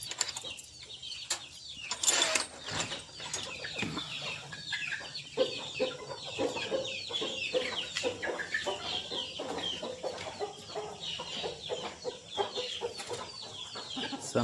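Chickens cluck steadily on a farm, with scattered close and farther clucks, a brief burst of wing flapping early on, and soft background noise.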